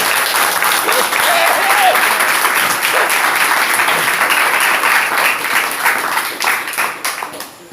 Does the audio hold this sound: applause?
yes